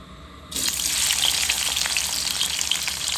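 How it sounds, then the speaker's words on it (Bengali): Oil for okra bhaji hits a hot pan and bursts into loud, close sizzling after a brief quiet moment, then keeps frying steadily with crackling and hiss. "তেল দিয়ে দিলাম ভাজির জন্য।"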